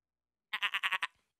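A goat man character in the Shovel Knight video game lets out a single bleat, a short run of four or five quick, nasal, wavering pulses that rings out loud and clear over silence.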